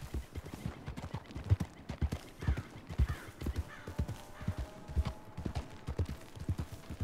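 Hooves from a tired horse clip-clop at a steady walking rhythm in the Red Dead Redemption western game, fairly close and clear, with no talk over them and a faint tonal hum in the background.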